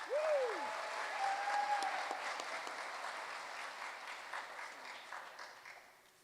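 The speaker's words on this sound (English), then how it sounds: "Give it up for Samantha Hollis" An audience applauds at a school awards ceremony with a dense, even wash of clapping from a crowd that fades gradually over several seconds, and a brief whistle-like tone cuts through early on.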